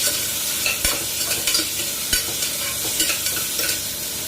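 Beetroot sautéing with turmeric in a pan for beetroot kulambu, a steady crackling sizzle with a few sharp spatula scrapes and knocks against the pan, close and fairly loud, no talk.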